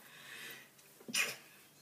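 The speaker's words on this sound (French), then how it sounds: "Oh, je vais éternuer." A quiet intake of breath followed by a single short, sharp sneeze, close and fairly soft, with no talking.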